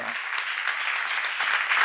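A church congregation applauds during a sermon, producing steady, dense clapping throughout, with a brief voice at the very start.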